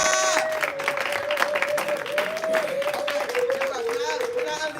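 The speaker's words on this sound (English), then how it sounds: "give yourselves a round of applause for just staying" A dinner crowd applauding, a broad steady patter of many hands sustained throughout, with a tonal voice or instrument line running over the clapping.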